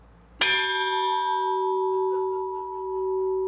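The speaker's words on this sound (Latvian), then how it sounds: "Mazākais zvans, viņš zvana ceturkšņus." A single strike of a church's smallest bell, marking the quarter hour, rings out clearly, then a long, steady metallic hum lingers and slowly fades with no other sounds.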